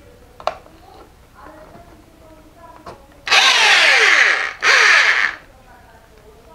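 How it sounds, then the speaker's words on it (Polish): Two loud, sustained bursts of a hammer drill close by, each lasting about a second, separated by a short pause, with quiet background sounds around them. "Dobra, bierzemy młotowiertarkę."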